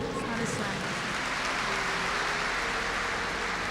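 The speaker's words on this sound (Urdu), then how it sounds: "یہ سوال سن کر پورا ہال تالیوں سے گونج اٹھا۔" A hall audience applauds in a dense, steady wash of clapping that holds at an even level throughout.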